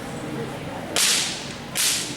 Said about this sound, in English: I'm not going to stand here and crack this thing until he's annoyed with me